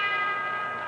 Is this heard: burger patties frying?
no